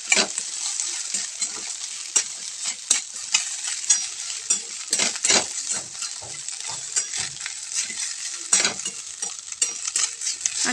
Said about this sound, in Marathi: तर आता आपल्याला ते सगळं परतून घ्यायचं आहे